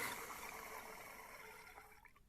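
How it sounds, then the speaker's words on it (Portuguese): Water gurgles and swishes as it circulates inside an electric water pump whose motor won't start and makes noise; a steady, close, watery churn fades slightly toward the end. "Dá pra ouvir até o barulho da água fazendo circulação aí, ó."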